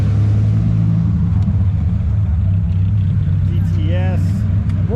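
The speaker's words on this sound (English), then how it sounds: "Here's a Dodge Viper" A Dodge Viper GTS sports car rolls in at a busy car show open house, its deep engine rumble steady and close beneath a voice talking over it.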